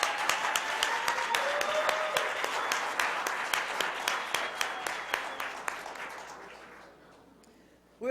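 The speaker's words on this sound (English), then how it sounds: "we need to give them another round of applause" Audience applause at a Black History Month celebration, a dense, steady clapping with a few sharp individual claps standing out, gradually thinning and fading over several seconds before a voice begins at the very end.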